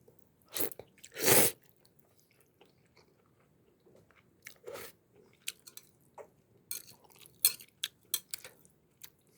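Close-up mouth sounds of someone eating Chungjungone farfalle egg pasta: a few loud moist bites, then scattered soft chews and wet clicks with quiet pauses between.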